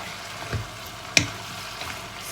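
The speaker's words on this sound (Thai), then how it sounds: "เราก็จะผัดแบบนี้นิดนึงนะคะ" Steady, close sizzling of vegetables stir-frying in a pan for chap chai soup, with a few soft scrapes and one sharp clink of a utensil.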